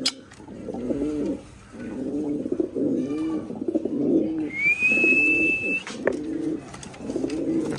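A pair of Chinese nasal tuft pigeons coo in close, repeated throaty rolls throughout. A thin, steady whistle rises briefly over them midway.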